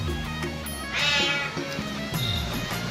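A cat meows inside an ATM centre, giving a drawn-out, wavering cry close by, with a low hum in the background and no talking.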